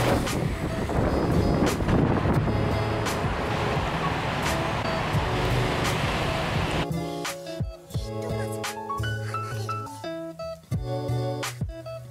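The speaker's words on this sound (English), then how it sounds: "I got a headwind too." Headwind roaring across the microphone of a cyclist riding through cold, freezing rain in Canada, a loud continuous rush that suddenly gives way to music with a faint bed of wind beneath.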